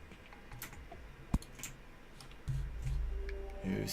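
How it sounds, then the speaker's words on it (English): Someone types on a computer keyboard, faint scattered key clicks and taps in an uneven rhythm, with a sharper click partway through and low background rumble. "I hear someone on a keyboard."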